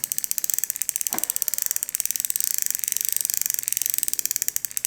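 A ratchet clicks rapidly and evenly at close range, driving screws into a barn-find Shakespeare 1810 fishing reel, with a single sharp knock early on and the ratcheting continuing steadily throughout.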